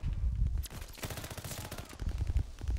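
Rapid automatic gunfire in the online shooter Call of Duty: Vanguard, a loud stream of bursts running through the whole stretch with short gaps between volleys.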